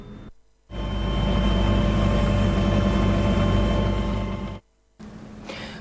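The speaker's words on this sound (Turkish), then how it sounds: "Bin kilometre menzile sahip olan Air Tractor tipi uçaklar ihtiyaç durumuna göre keşif uçuşunda da kullanılabiliyor." The engine of an Air Tractor aircraft, a type also used for reconnaissance flights, gives a loud, steady drone that starts abruptly, holds for about four seconds and then cuts off.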